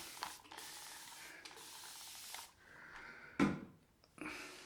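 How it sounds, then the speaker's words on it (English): Several short hissing bursts from a spray bottle misting water onto a shaving brush loaded with Palmolive shaving cream, close and fairly quiet, with one sharper, louder spritz near the end. "There it is. There's my spray."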